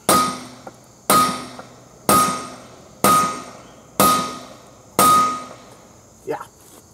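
Hammer blows on stuck bolts of a Ford 8N tractor that sat seven years in a field, six loud metallic strikes at an even pace with ringing decay, close by, with a faint clink at the end.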